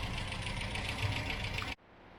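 MGB car engine idling while warming up, a steady, close rumble with a slight knocking pulse that cuts off abruptly near the end, leaving quiet.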